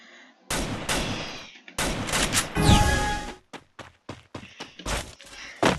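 Gunfire from Max 7 and Groza weapons in the Free Fire battle royale game: dense bursts of rapid shots, then a string of separate sharp cracks with short pauses between them, loud and close with no voices.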